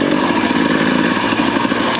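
Motorcycle engine running steadily and close with a rough, throbbing mid-range tone while the bike is turned around, loud and alone.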